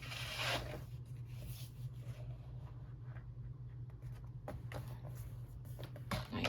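Scissors or a blade cut down a blank planner cover, a quiet scratchy slicing with short rasps and a few crisp snips, close and alone.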